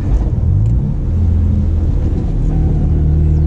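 BMW E46 M3 engine revving hard close by during street drifting, a loud continuous low rumble with rising and falling pitch.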